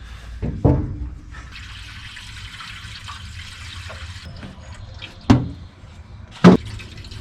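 Water pours steadily into a 2020 Ford F-750 dump truck with a hollow, splashing hiss, punctuated by a few loud metallic clunks and knocks.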